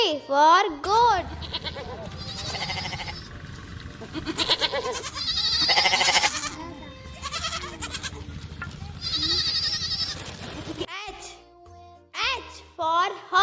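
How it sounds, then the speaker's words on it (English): A goat bleats in short, wavering, nasal cries at the start and again near the end, with a child-like voice and a bright, busy musical backing filling the middle. "G for goat."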